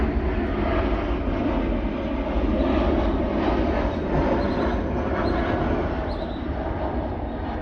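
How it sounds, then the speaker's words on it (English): Airplane flying overhead above a garden in the middle of busy Tempe city, a loud broad engine roar that swells and slowly fades over several seconds, with no talking. "there's a plane coming over"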